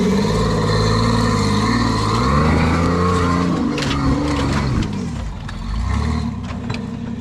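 Rock crawler off-road rig engine climbing over rocks on a dry trail, loud and close with rising and falling revs throughout, strained pulls and shifting pitch as it works up the obstacle.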